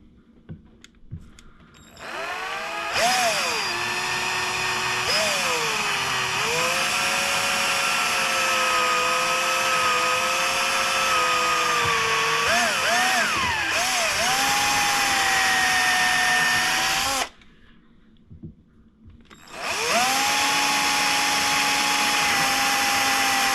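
A power drill whines steadily for long stretches, pitch dipping as it bites into a boat's gel coat, with a brief pause before it spins up again.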